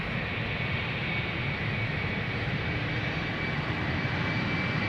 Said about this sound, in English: KLM Embraer 190 going to Gothenburg